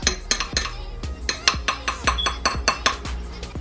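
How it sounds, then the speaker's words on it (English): A utensil stirs a lye soap mixture in a container, producing a steady series of sharp clinks and scrapes in an even rhythm, close and clear. "Stir it really slowly."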